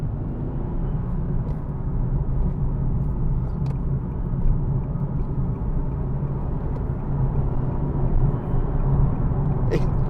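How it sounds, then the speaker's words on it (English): A 2014 Nissan 370Z 3.7 V6 engine runs steadily with a low, droning howl and rumble that holds at an even level throughout. "it sounds like, almost like a supercharged engine. There's kind of a howl."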